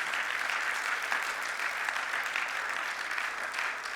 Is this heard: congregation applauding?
yes